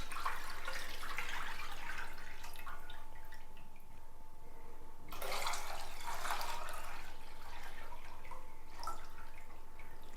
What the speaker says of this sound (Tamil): இதில் நம்ம 2 லிட்டர் பால் ஆட் பண்ணியிருக்கிறோம்